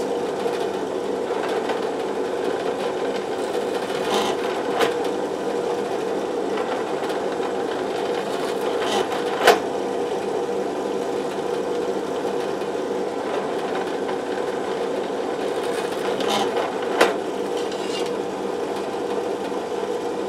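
Drill boring holes for pickup screws in a guitar body, a steady continuous whine running throughout with a few sharp clicks, close and loud, no talk.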